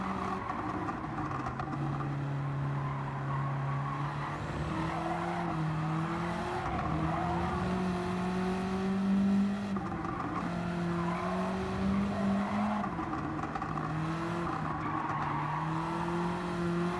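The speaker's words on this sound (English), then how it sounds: "The tires are so bald, they squeal?" Race car on bald tires in Gran Turismo 7, engine whining and shifting pitch through gears while tires squeal and skid repeatedly through corners; steady and close, no talking.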